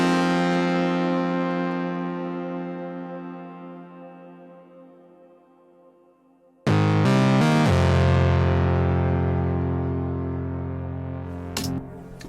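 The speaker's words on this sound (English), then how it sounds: "we have a Minimoog lead," Classic Minimoog synthesizer lead with a low cut at 35 Hz: a bright, buzzy sustained note slowly fades, then a new loud phrase bursts in with quick stepping notes and long held tones, played alone.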